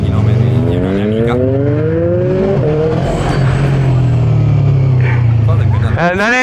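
A 125cc four-stroke motorcycle engine revs up in several rising, steady pulls, then drops back and climbs again. The engine is loud and close, and a voice sounds faintly beneath it.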